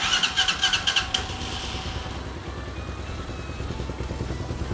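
A carbureted Hawk 250 motorcycle engine starts with a few quick cranking pulses, then catches and settles into a steady, close idle with a rough, even putter that runs to the end.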